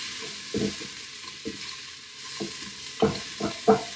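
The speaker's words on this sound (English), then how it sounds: "Just so you can smell that garlic cooking a little bit." Garlic sizzles in a pot for chicken noodle soup, a soft continuous hiss punctuated by several irregular scraping stirs that grow firmer toward the end.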